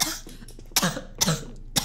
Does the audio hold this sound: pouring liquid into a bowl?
no